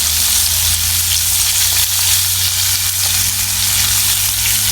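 Fish frying over a wood fire, a loud, steady sizzle and crackle of oil that holds close and unbroken throughout with no talking.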